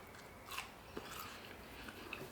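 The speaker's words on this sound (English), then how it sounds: "There's a better crunch." A crunchy bite into a Trader Joe's spicy chicken nugget broiled at 400 degrees, with a few faint crisp crunches close to the mic in quiet surroundings.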